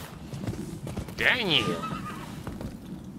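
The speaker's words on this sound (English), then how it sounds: "Damn, this is a nice looking horse" A horse in the Rise of the Ronin game gives a loud, close whinny that falls in pitch, with hoof clip-clops around it and a person talking briefly nearby.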